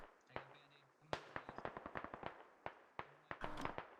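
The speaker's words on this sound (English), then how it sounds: "Land these mortar shots." Mortar rounds landing in a military video game hit as a rapid series of sharp explosive cracks and thuds, several bursts in quick succession, loud and close, with a dense cluster near the end.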